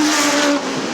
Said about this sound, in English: bang! There goes a motor.